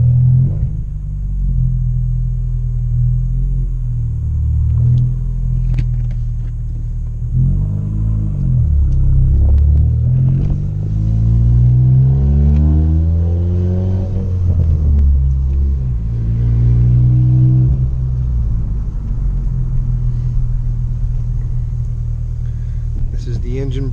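A 2016 Ford Focus RS engine rumbles steadily while the car backs up, with deep low droning and a rise and fall in pitch midway as revs change, loud and close throughout.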